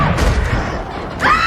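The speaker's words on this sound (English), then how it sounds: "we then see him sniping melons on their property with a .50 caliber sniper rifle" A .50 caliber sniper rifle fires at melons in a film: a heavy low boom opens, followed by a rumbling tail and a second sharp impact near the end.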